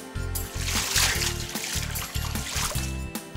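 Splashing water with trickling spatters, heard over an upbeat rhythmic music bed, with no talk.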